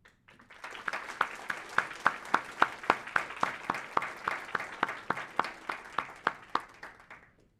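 Group applause at an awards gathering honoring CPI presidents, a steady burst of many hands clapping, fairly close and full, lasting several seconds before tapering off.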